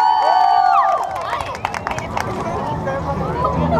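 An audience at a pop-up show claps and cheers to welcome a band. A fading tonal sound gives way to dense, lively applause mixed with shouts and crowd babble.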